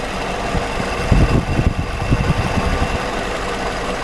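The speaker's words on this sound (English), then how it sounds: "here's the engine running, just kind of idling right now" A Willys CJ2a jeep engine idles loudly and steadily close by, a rough low rumble with a slight rhythmic tapping.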